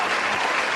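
A burst of applause from a crowd, steady broadband clapping filling the whole short moment with no voices over it.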